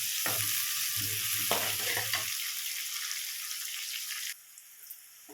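Eggplant frying with onions in a pan for vaangi bhaat, a steady close hiss of sizzling oil with brief stirring scrapes, dropping abruptly quieter near the end.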